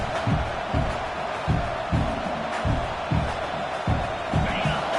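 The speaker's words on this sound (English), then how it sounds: "This crowd, full throat, spreading the eardrums and letting them know it's going to be a long day." Stadium crowd roaring in the football video game NCAA 26, a steady loud wash of voices with rhythmic surges and thumps, under commentary.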